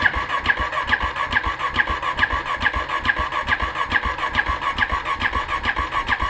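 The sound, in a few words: dual sport motorcycle engine cold start attempt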